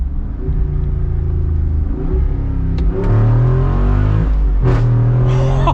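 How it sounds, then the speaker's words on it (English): A 2021 Jeep Wrangler Rubicon 392 V8 rumbles, then revs hard through rising and falling pitches, the exhaust growling loudly and close as it shifts gears manually. "Let's try the manual shifts and hear this exhaust in all of its glory."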